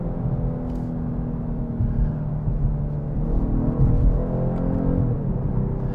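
A 2022 Genesis G70's engine drones steadily from inside the cabin as the car gears down, a loud continuous low rumble with a slight rise in pitch partway through and no voices.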